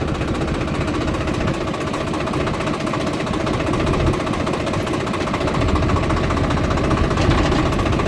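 A vehicle engine runs steadily after being started and put into gear, a close, loud, rough knocking rumble with rapid mechanical pulsing that continues throughout without talk.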